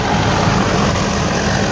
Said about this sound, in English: Alright, the engine's still sitting here idling.